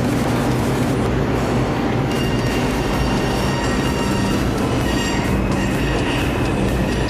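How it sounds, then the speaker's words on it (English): A New York City subway 2 train pulls into Atlantic Avenue–Barclays Center station, a loud, steady rumble of wheels and cars with metallic squeals and clicks running the whole time, close by, with no talking. "It's just a 2 train."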